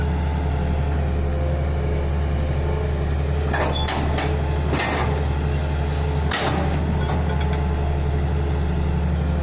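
A Hitachi backhoe digs and scoops earth, its steady low engine drone running throughout with a few faint clanks and scrapes mixed in, at a constant, moderate level and with nobody speaking.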